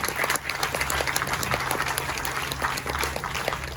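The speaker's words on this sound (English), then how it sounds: "So please give him another round of applause." An outdoor crowd at a Ramayan in the Park gathering gives a round of applause, a dense, steady wash of clapping that holds at an even level throughout with no talk over it.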